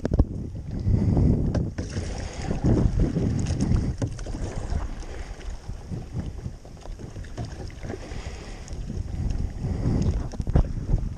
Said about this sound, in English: The boat, and that's the little dinghy we're gonna use to wakeboard.